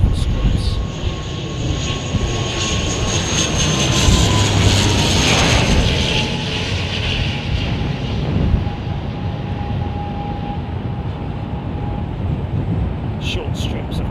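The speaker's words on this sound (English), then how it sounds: "Versatile little aircraft though. Short takeoff and landing capability." A small short takeoff and landing propeller aircraft at Heathrow Airport hums and whines steadily over wind noise, its engine tone sliding gradually lower as it passes, with people talking throughout.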